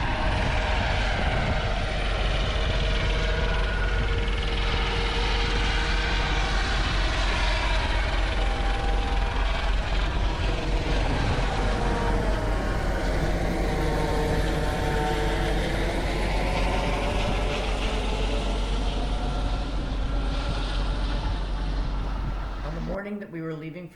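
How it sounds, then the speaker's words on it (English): A loud, continuous engine and rotor roar that swells and shifts in pitch as a helicopter passes overhead in Killarney, Ontario, cutting off abruptly at the end. "The first is a helicopter flyover in Killarney,"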